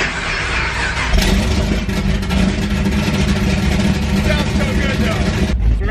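A Chevrolet Camaro ZL1 engine fires up inside a trailer with a loud, boomy, enclosed roar that runs steadily until it cuts off abruptly near the end, and voices are audible over it.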